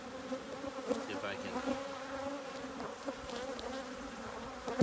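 Honey bees buzzing steadily around an opened spring beehive during a frame inspection, a dense close swarm drone with a few louder individual bees passing near.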